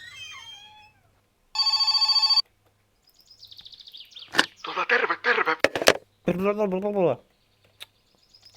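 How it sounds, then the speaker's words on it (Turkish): Telephone ringing in the car-building game My Summer Car, a single burst of electronic ringing, followed by someone talking and other game sounds. "Bak yine telefon çalıyor."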